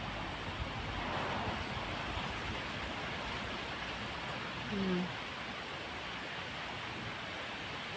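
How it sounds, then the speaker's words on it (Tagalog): Typhoon Danas winds blow steadily through palm trees and across a mountainside in Taiwan, a faint, constant whooshing roar that barely changes, with a brief soft sound near the middle. "Yan, mahangin ulit."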